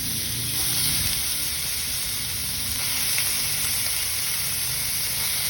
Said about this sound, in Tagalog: we try to cook this ground pork and beef first.